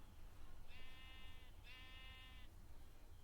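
Two bleats from a Minecraft sheep, each about a second long with a clear harmonic, buzzy tone, sounding one after the other over a low background rumble.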